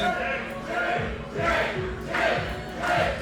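A wrestling crowd at the 2019 Rival Pro Wrestling event Summer Rizing 3 at the Inoki Dojo chants in a steady repeating rhythm, a loud massed roar of voices pulsing about every half second.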